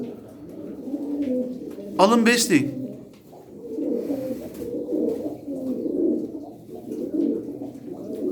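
Bareleg Turkish tumbler pigeons of the Çorum breed give soft, low cooing calls throughout, with a brief wing flutter midway, while someone talks over them nearby.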